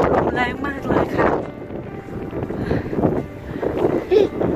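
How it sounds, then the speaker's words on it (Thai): Strong wind buffets the microphone in a garden in England, giving a rough, uneven roar that rises and falls throughout, with faint voice-like sounds in the mix. "ลมแรงมากเลยค่ะ"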